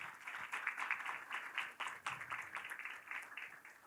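Audience applause at a rural development and agricultural financing forum, a steady wash of many hands clapping throughout at moderate, somewhat distant level, with no voices over it.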